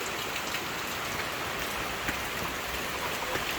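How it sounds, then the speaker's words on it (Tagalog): Heavy rain pours steadily on a rural vegetable field during a storm in Bicol, a dense, even hiss of countless drops close by with no pauses and no voices. "lumalakas na yung ulan"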